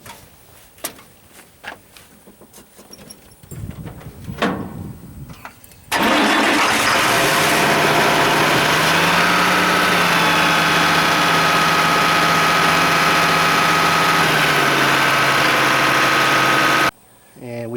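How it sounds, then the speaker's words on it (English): Farm tractor engine cranking with a brief starter whir, then catching and settling into a loud, steady close idle for about eleven seconds before cutting off abruptly, with scattered handling noises and movement before it starts. "I'm going to get up there and crank the tractor"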